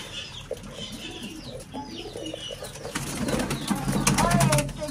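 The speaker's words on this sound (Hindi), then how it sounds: "अभी बस निकालते कबूतर को, आज उड़ाते हैं।" Pet pigeons released from their coop in the early morning, wings flapping and soft cooing close by, with scattered chirps and someone talking over them, the flutter growing louder toward the end.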